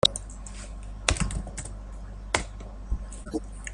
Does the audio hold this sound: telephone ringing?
no